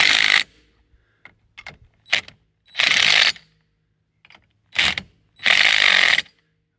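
A ratchet wrench tightening lug nuts on an ATV wheel spacer hub (CFORCE 500) clicks in rapid bursts, several loud ratcheting strokes separated by short pauses and faint metallic clinks.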